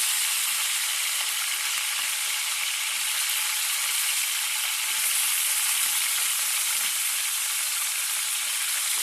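Squid fries in a hot pan with a steady, loud, crackling sizzle that continues unbroken throughout, with no talking.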